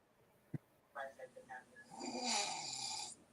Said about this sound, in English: Y'all hear my wife snore?